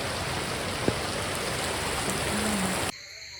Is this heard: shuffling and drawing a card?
no